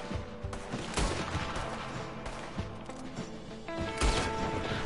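Gunfire in Red Dead Redemption 2, several sharp shots scattered through a dense, busy game mix with music and effects, moderately loud throughout.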